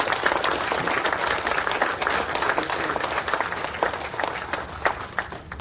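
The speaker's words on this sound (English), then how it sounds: "So join me in giving him a round of applause." Sustained applause from an audience at a Veterans University 2024 ceremony in Hemet, California, steady dense clapping filling the whole room at an even level throughout.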